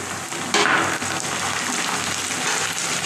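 A tablespoon each of garlic and ginger sizzles in a pan for an egg curry, with a steady, close hiss of frying that holds evenly throughout.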